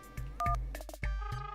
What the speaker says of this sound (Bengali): একবার ফোন করে গুড নাইট জানাই